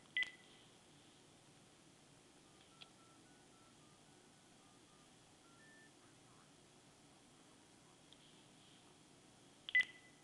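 A telephone keypad sends a quiet sequence of about a dozen short, evenly spaced dialing tones, faint against a low background hum, bracketed by a few sharp clicks.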